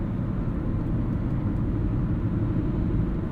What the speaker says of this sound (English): A little bit of tire noise. Older tires on this